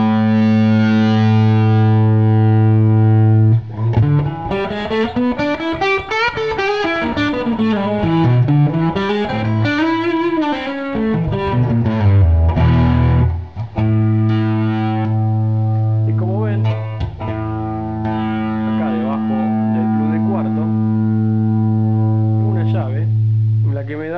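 Electric guitar played through a modified Ibanez Tube Screamer TS-9 overdrive pedal, stripped down to its distortion section, giving thick sustained chords with a melodic run in the middle, loud and close with no talking.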